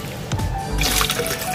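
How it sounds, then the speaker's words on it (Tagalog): Water trickles and splashes as it is poured into a cooking pot, a short run of liquid pouring with bubbly splatters, close and moderately loud. "Okay, let's put water."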